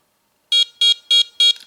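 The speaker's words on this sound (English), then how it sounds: "there's my throttle high beeper" A Spektrum DX18QQ radio transmitter sounds its throttle-high warning, four loud, even, electronic beeps in a steady rhythm with short gaps between them, and a fifth beginning at the very end.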